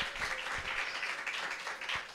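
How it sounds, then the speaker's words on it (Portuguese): A church congregation claps during a worship service, a moderately distant, uneven patter of hands with a few sharper individual claps standing out, no voices audible over it. "Dá uma salva de palmas para o Senhor,"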